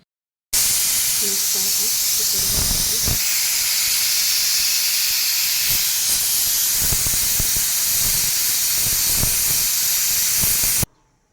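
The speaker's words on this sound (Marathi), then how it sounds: "कुकरला लावून घेतलं तर चार ते पाच शिट्ट्या काढायचे" Steady loud steam hiss from a pressure cooker boiling potatoes fills the whole stretch, a continuous broadband rush with faint clicks and brief voice-like sounds beneath it.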